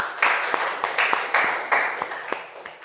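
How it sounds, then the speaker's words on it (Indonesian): A classroom group claps together in uneven waves, a steady patter of hands with several sharper accented claps standing out, moderately close. "Kita beri aplaus untuk kita semua."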